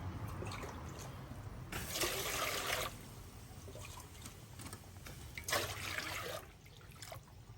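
Water scooped from and poured back into a cooking pot for a Thai dish, heard as two broad splashing, pouring bursts separated by quieter trickling, fairly close.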